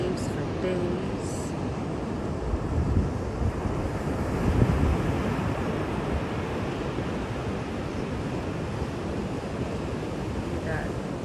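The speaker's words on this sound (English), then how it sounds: "You got waves on top of waves and waves and waves for days." Ocean waves break on a beach on a chill day, a steady rushing surf with wind buffeting the microphone, a constant wash with no gaps.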